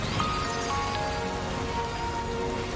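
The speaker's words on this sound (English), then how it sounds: "Rain." Steady rain in the video game Death Stranding 2, a dense even hiss of drops hitting surfaces that holds constant throughout with no voices over it.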